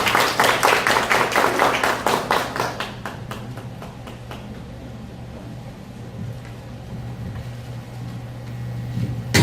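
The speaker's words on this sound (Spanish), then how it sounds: "Aplauso a Richard de la entrada." An audience at an auditing standards presentation claps in fairly loud, near rhythmic bursts that thin out and stop after about four seconds, leaving a low steady hum of room noise.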